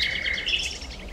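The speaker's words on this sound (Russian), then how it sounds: "Птицы щебечут, причем повсюду." Birds chirp and tweet in quick, overlapping calls by a riverbank, bright and fairly close, with no one speaking.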